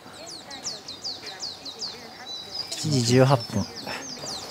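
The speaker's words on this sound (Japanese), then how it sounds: "鳥のさえずりがすごい聞こえてめっちゃいいですね。" Birds sing in the mountains at Tokusawa, with repeated bright chirps and tweets at moderate distance running through the scene, and a person talking briefly over them partway through.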